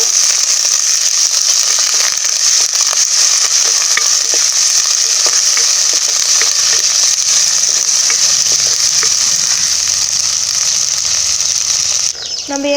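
Eggplant and potato pieces fry in oil while being stirred for a sundal kulambu, giving a loud, constant sizzle broken by frequent scraping clicks of a spoon against the pan.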